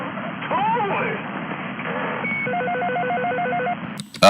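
A phone rings with an electronic, warbling ringtone, a repeating stepped two-tone pattern over background noise and voices, cut off by a loud burst at the end.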